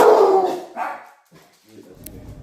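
A dog gives a loud bark or howl-like yelp at the start, followed by a fainter second bark and some quieter scattered sounds.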